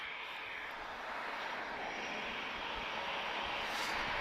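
A TAP Express Embraer E195 jet arriving at Lisbon Airport makes a steady, broad roar of engine and rushing air. The sound is distant and fairly faint, grows slightly louder toward the end, and has no voices.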